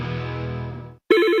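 A telephone rings in a commercial, a sustained electronic tone that fades into a short silence before a sharper warbling ring cuts in loud and close.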